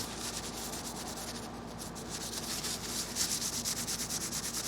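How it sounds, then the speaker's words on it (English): A cloth rubs acetone onto metal gun parts with a continuous close scrubbing sound made of quick, even back-and-forth strokes that grow slightly stronger toward the end. "Just rub down all the surface parts that you intend to paint."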